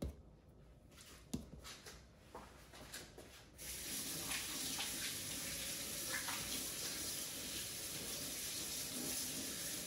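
Water from a tap runs steadily to wet hands while kneading rustic sourdough bread dough in a home kitchen, a continuous splashing gush that follows a few soft handling noises.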